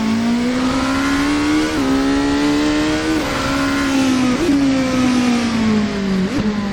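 A Cadenza V8 Polaris race car in Assetto Corsa drones steadily through its gears, engine pitch climbing and dropping with each shift over several seconds, loud and continuous with no voices.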